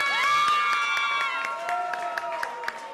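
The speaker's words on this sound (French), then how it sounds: "j'aimerais qu'on applaudisse très fort pour lui" A crowd at a Gabonese showbiz birthday celebration applauds and cheers with scattered clapping and shouts, while sustained musical tones run underneath.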